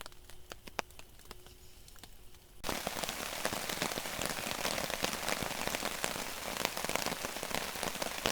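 Rain falls on a campsite with a tarp and hammock lean-to, starting as a light, scattered patter and then swelling into a dense, steady downpour drumming close by.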